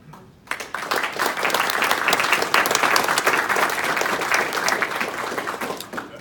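An audience at a university prize ceremony breaks into sustained applause after a brief quiet moment, many hands clapping steadily at an even level until the end.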